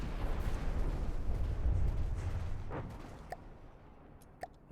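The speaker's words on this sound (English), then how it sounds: "Big explosion. Very, very big explosion." Very big explosion in a video game, a sustained low rumbling blast that fades slowly, with a few sharp crackles and pops trailing off near the end.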